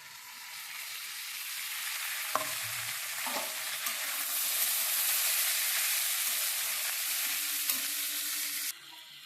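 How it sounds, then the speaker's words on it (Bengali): Steady close sizzling and hissing of vegetables and potatoes stir-frying for chow mein in a hot pan, with occasional scraping clinks of a spatula stirring; no voices. "এবার এইগুলো সবই দিয়ে দিচ্ছি, আমি একসাথে ভেজে নেব।"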